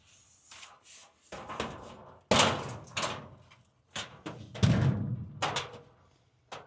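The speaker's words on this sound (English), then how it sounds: "One and two, door is open." A compact spray booth door is worked open with a series of knocks, bumps and scraping rubs, then a louder clunk and further rattling handling noises, all close by with no talking.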